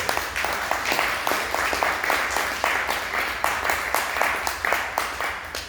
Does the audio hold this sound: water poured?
no